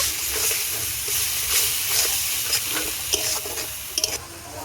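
Spices with salt and turmeric sautéing in a pan for a pointed gourd and prawn dish, a steady close hiss and sizzle with scattered scraping clicks from stirring, no voices.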